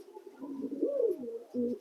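A Sirazi pigeon coos in soft, rolling low notes, close by, followed by a shorter, throatier coo near the end.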